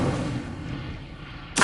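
The Incendio fire spell cast in Hogwarts Legacy makes a booming, rushing burst that fades over about a second, followed by a sudden sharp new blast at the very end.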